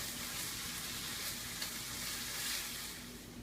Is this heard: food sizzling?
yes